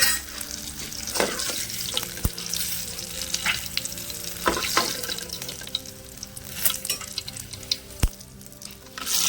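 Coriander seeds roast in hot oil with green chillies in a pan for Telangana peanut chutney, giving a steady crackling sizzle broken by a few sharp clicks of stirring.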